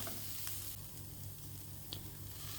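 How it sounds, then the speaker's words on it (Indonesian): Wood ear mushrooms and garlic are stir-fried in a nonstick marble pan, giving a steady, close sizzle with a few light scrapes and clicks from stirring. "Masukkan jamur kuping, aduk rata."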